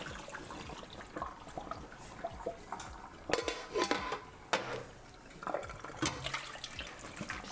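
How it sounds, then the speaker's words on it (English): Water being drained from a pot of cooked summer squash, splashing and pouring with clanks of the pot in bursts, close and moderately loud, with no talking. "we are gonna drain all the water out"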